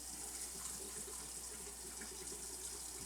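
Water runs steadily from a tap into a sink while being warmed up for a hydroponic fodder setup, a continuous broadband rush with no voices.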